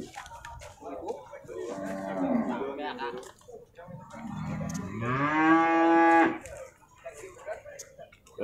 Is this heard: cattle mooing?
yes